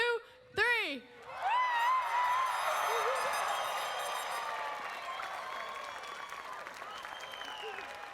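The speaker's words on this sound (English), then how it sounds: "Graduates, on the count of 3, you may raise your caps and cheer." A high school graduating class cheers and applauds at their commencement ceremony, a loud, sustained crowd roar with whoops and clapping that swells after a brief pause and carries on steadily.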